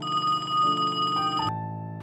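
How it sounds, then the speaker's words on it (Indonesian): A broken telephone at a public phone booth rings with a loud, steady electronic tone that cuts abruptly to a lower, fading tone partway through. "dia mendengar suara dering telepon dari wartel di depannya"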